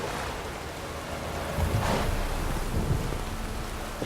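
Steady rain pours throughout a stormy scene in The Witcher 3 video game, with a soft rumble of thunder swelling midway through, continuous and enveloping with no voices.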